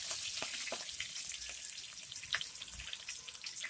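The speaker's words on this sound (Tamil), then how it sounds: "இப்போ நான் கருவேப்பிலை போட்டிருக்கேன்." Slit green chillies and curry leaves frying in hot oil in a pan, a bright, steady sizzle with sharp crackles and spitting pops, close and faint, alone without voices.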